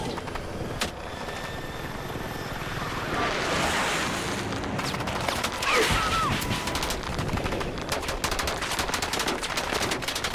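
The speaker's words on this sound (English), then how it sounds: "Did you hear how much infantry fire we were taking there?" Heavy infantry gunfire crackles in dense bursts and sustained automatic fire around a helicopter in the video game Battlefield, loud and continuous throughout with explosive rumble underneath.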